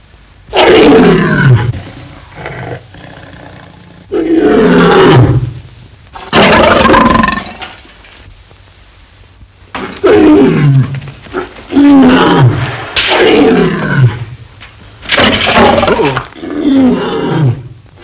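A lion roars repeatedly in loud, deep bursts separated by short pauses, close and dominant, with no talk over it.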